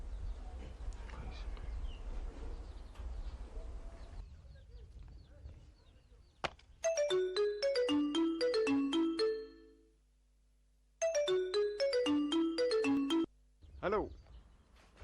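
A phone ringtone for an incoming call sounds in two bursts of bright melodic tones, with muffled speech and noise beforehand and a brief voice after.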